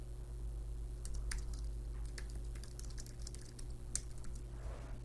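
Soft, quick keystrokes on a computer keyboard tap out irregularly over a steady low electrical hum, faint and close, with no one speaking.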